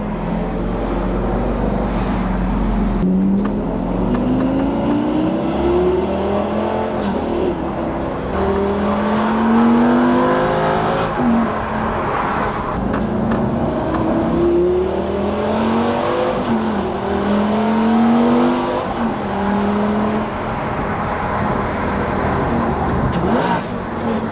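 A Lamborghini Gallardo engine revs hard through repeated rising pulls, with sharp blips as it downshifts between gears, loud and close throughout.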